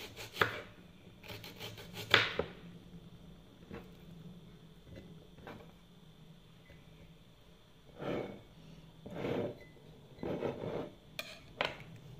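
Knife chopping white onion on a board, a few close quick bursts of cuts separated by pauses, quiet and isolated with faint kitchen background.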